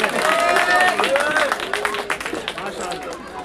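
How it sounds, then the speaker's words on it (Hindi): Audience applause for the children's designs at a school charitable trust's 25th anniversary event: a steady wash of crowd clapping throughout, with a voice talking over it. "बच्चों आपकी डिजाइन के लिए तालियां कमजोर है"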